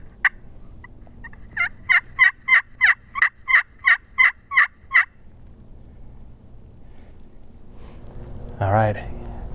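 Wild turkeys gobbling outdoors during a Nebraska hunt. A loud burst of about nine rapid, evenly spaced gobbling calls rings out, followed by quiet and then one louder, rougher call near the end.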